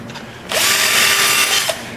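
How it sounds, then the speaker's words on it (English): A power drill opening up a rivet hole whirs up sharply, runs at a steady high pitch for about a second, then cuts off, close and loud. "So all I'm going to do is run the drill through"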